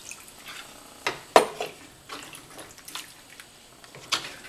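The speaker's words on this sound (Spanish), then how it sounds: "Le voy a poner yo un poquitito más de agua" Water being poured into a simmering guajillo chili sauce with pig's feet in a pot, heard as faint splashes and bubbling bursts at irregular intervals over a quiet kitchen background.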